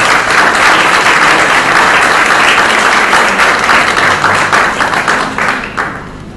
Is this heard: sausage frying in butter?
no